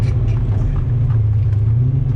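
Ford Foxbody Mustang engine at a speedway gives a steady, loud, deep rumble close by, holding an even idle-like drone throughout with no talk.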